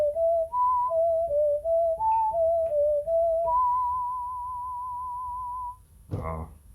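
A whistle patch on a Casio CZ-101 synthesizer plays a short, pure-toned melody of stepped notes, then holds one long sustained note before a brief burst of noise at the end.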